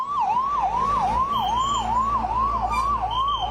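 A fire engine siren wails steadily at a large blaze in Sanand, Gujarat, its rising and falling tone repeating in quick, even cycles, loud and close with engine rumble beneath.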